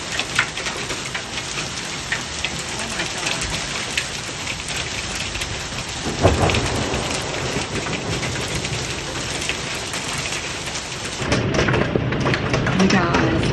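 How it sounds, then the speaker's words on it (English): Heavy rain pours steadily during a stormy day, with a dense hiss of drops striking surfaces and a brief low rumble of thunder partway through; a voice can be heard faintly at times. "Please ignore the thunder"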